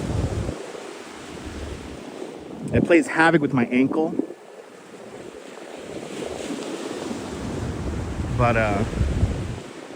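Ocean surf washes and rumbles continuously on the beach at Coney Island, Brooklyn, heavy with wind buffeting the microphone, while a person talks briefly over it twice.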